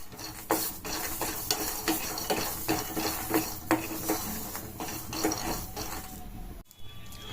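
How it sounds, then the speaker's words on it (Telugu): Peanuts frying in a hot pan, a close sizzle broken by repeated scraping and rattling stirs in a loose rhythm, cutting off abruptly near the end. "పల్లీలను ఫ్రై చేసుకోవాలి."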